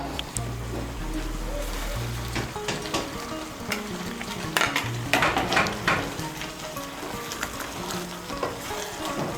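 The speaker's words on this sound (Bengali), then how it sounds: "সমস্ত উপকরণটাকে মিশিয়ে নিয়েছি আর তৈরি হয়ে গেল ডিমের কোরমা।" Egg korma ingredients, fried onions and green chillies among them, are stirred together in a pan, giving a steady sizzle with scraping and clinking of the spoon against the pan.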